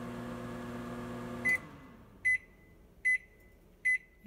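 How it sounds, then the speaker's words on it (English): A microwave oven heating agarose gel solution hums steadily, then stops and gives four short, clear beeps spaced under a second apart, close by with no voices. "we're going to put that in the microwave for 30 seconds"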